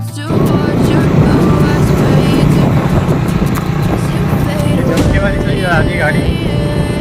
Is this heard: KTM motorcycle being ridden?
yes